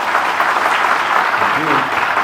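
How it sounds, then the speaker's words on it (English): Audience applause at a spirituality leadership talk, a dense, steady wash of clapping filling the whole moment with a voice faintly mixed in. "can we have a huge round of applause for Amogh sir?"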